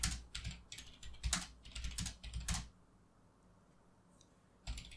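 Code being typed on a computer keyboard, with fast close clicking keystrokes in bursts for a few seconds, a pause, then one last short tap.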